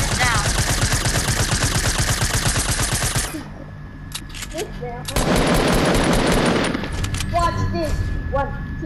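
Fortnite video game gunfire: a long rapid burst of automatic shots, a short pause with faint game sounds, then another dense burst, loud and close.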